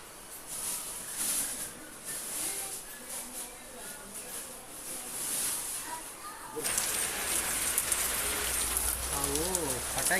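Steady rain patters down during an outdoor Diwali puja with oil lamps lit, a continuous hiss that grows heavier partway through, with people talking over it.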